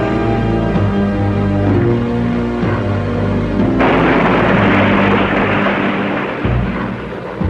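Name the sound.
anti-submarine bombs exploding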